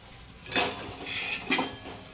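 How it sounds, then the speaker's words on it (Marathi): A utensil scrapes and clatters against a pan in two distinct strokes as chicken kofta balls are turned through thick masala, with a faint sizzle between strokes. "हे चांगले ह्या मसाल्यामध्ये आता परतून घ्यायचे"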